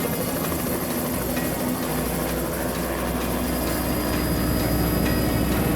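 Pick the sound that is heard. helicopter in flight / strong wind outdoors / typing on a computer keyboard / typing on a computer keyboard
helicopter in flight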